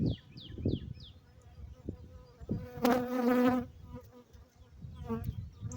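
Honeybees buzz close by around a hive in short bursts, with a steady drone swelling in the middle, beside a few brief voice-like sounds.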